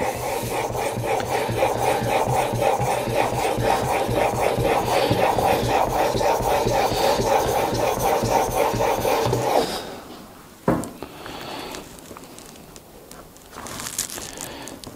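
A wood chisel blade rasps back and forth in fast, even strokes on a Japanese water stone, close and loud, then stops abruptly with a clack and quieter handling.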